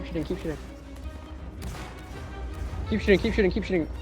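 Gunfire in a multiplayer battle video game crackles faintly beneath loud voices calling out commands, with a denser burst of shots toward the end.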